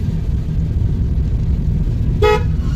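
A single short car horn honk sounds near the end over a constant low engine rumble, during a driving lesson.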